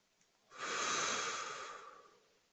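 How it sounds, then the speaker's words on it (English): A single slow, soft breath during a yoga breathing exercise, one long airy exhale rising and fading over a couple of seconds in a quiet room. "Continuing with this breathing pattern for a while."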